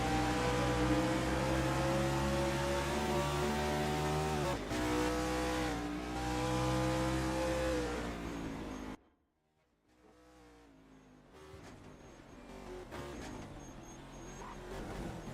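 Race cars in a racing video game at Laguna Seca roar past in a loud continuous engine drone with shifting revs and brief tire squeal, then cut out abruptly before a quieter engine hum returns.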